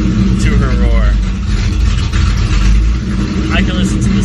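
A custom Shelby 1000 widebody car idles loud and close with a deep, steady rumble and slight revving swells, while people talk over the engine throughout.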